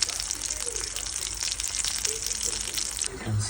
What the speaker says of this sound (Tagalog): nagpiprito lang tayo ng bastoncini di merluzzo